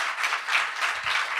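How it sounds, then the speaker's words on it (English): A room of attendees at an entrepreneurs' social evening in Manchester applauds steadily, dense clapping sustained throughout without voices. "Everybody, if you could give Kirsty a big round of applause."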